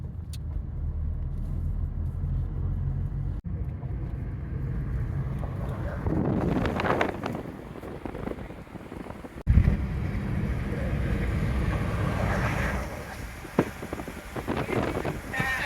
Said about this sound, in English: We're driving towards the grocery store